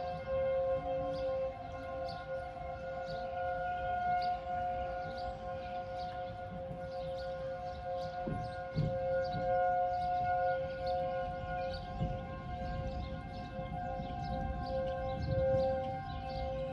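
A civil defense tornado warning siren sounds across Rock County, its steady, sustained wailing tones holding throughout, heard from a distance outdoors over low background rumble.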